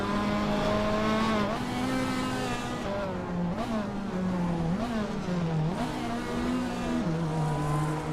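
A 1985 Ferrari 288 GTO and other race cars at Ruapuna Park roar close by, a loud, continuous engine note climbing in pitch through repeated gear changes as they pull away from the start.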